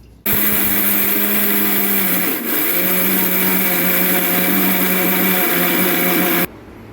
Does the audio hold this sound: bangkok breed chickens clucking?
no